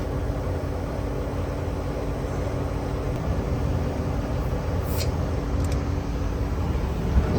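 A manual air pump inflating the small air receiver mounted mid-vehicle between the tanks of a BMPT armoured vehicle, a steady, continuous broadband rush close by, with no breaks.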